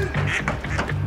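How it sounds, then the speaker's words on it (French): Ducks quacking up close outdoors, several rapid nasal calls overlapping in a brief, loud burst. "Sacha, je me fais attaquer par des canards."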